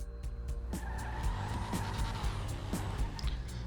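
A fast car in GTA Online driving and skidding: steady engine roar with tire squeal and repeated short bumps and thuds, moderately loud, with no talk.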